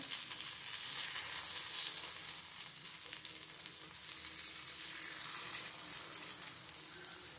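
A snack sizzles in oil in a pan over a medium flame, a steady, even frying hiss that holds for the whole stretch with no talking over it.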